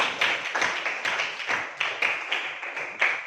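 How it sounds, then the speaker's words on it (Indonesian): Classmates applaud a student in a small classroom with a short burst of fairly close hand claps in a loose, uneven rhythm, quickly tailing off. "Ya, tepat sekali, tepuk tangan untuk Najla."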